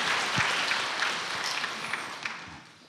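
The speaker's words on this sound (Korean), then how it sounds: "우리 박수 한번 쳐주세요." Applause from a church congregation during a Sunday service, a dense, even patter of clapping that starts strong and tapers off over a few seconds.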